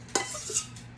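A spoon or whisk stirs homemade Greek yogurt in an Instant Pot, with a short scrape and clink against the metal inner pot over a low steady hum, close and fairly quiet.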